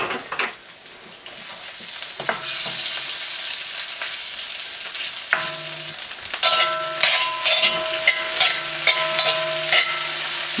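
Marinated, cornstarch-coated beef pieces go into a hot pan in batches and fry with a crackling sizzle that grows louder. Tonal metallic pan clatter and sharp pops rise over the frying, close and without talk.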